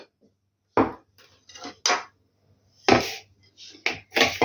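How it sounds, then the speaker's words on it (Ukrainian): A utensil clinks and scrapes in a bowl while egg yolks are mixed with sugar and sour cream, giving several sharp close clacks in uneven bursts with quiet gaps between. "перемішую, додаю сюди сметану"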